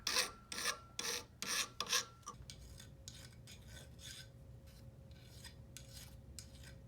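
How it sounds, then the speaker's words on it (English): 300-grit automotive sandpaper rasps against metal guitar picks in quick back-and-forth hand strokes, loud and evenly rhythmic at first, then lighter and softer scrubbing continues close by. "Hand sanding with automotive sandpaper, 300 grit"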